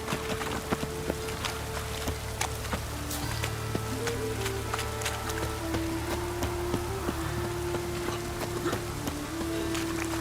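Rain in the video game The Witcher 3, a steady patter of drops on surfaces, moderately loud and continuous over a low ambient hum, with no talking.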